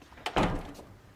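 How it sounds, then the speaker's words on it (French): A door swung shut indoors, a single dull thud with a brief scrape just before it, fairly soft and alone against quiet room tone. "La porte fermée en plus."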